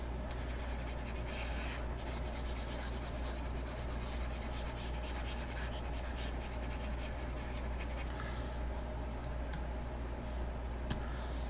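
A marker writing on a whiteboard during a physics lesson on vectors and accelerated motion, steady close scratchy squeaks and taps over a constant low room hum, with no talking.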